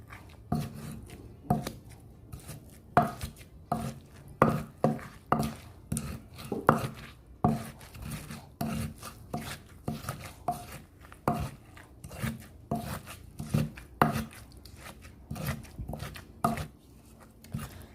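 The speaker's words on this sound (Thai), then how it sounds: "จากนี้ก็คลุกเคล้าทุกอย่างให้เข้ากันดีค่ะ" Ingredients for an olive chili paste (nam prik makok) are tossed and pounded together with fish sauce and seasoning. Irregular, fairly sharp knocks and scrapes repeat close by for the whole stretch, with no voices.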